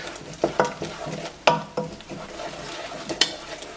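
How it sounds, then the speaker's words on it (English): A spoon stirs a low carb breakfast bar mixture with cornstarch in a pan, making irregular close scrapes and clinks against the metal over a faint simmer, with no talk. "we'll go ahead and stir that in"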